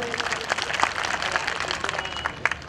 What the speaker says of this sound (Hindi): एक बार उनके नाम पर जोरदार ताली बजाइए।